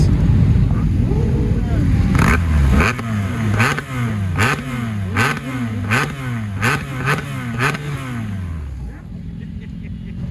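Motorcycle engines rev repeatedly at the Isle of Man TT in a steady rising-and-falling rhythm, loud and close, with voices and crowd noise mixed in underneath.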